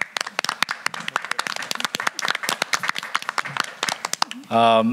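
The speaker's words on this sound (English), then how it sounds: "So let's give a round of applause to them." A small room of people claps for several seconds at a community council meeting, scattered close-up hand claps at an uneven rhythm, with a voice starting to speak as the clapping fades.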